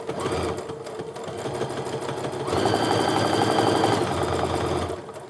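A sewing machine stitches pieces of a quilt top together, its motor humming steadily with a rapid needle rhythm that speeds up and grows louder midway before easing off, close and continuous.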